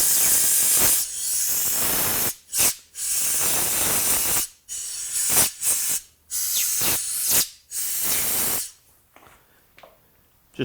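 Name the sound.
air nozzle blowing out Phillips head screw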